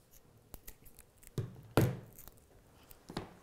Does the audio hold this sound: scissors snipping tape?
yes